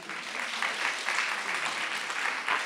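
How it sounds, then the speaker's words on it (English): Audience applause at a women's conference keynote, a steady, moderately faint patter of many hands clapping throughout with little talk. "give yourselves a round of applause"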